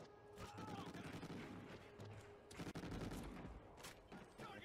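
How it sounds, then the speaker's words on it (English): Gunfire in a Call of Duty Ghosts Kill Confirmed multiplayer match sounds as dense, rapid shooting and automatic bursts mixed with game effects throughout, fairly faint overall, with occasional talk underneath. "someone shooting back there,"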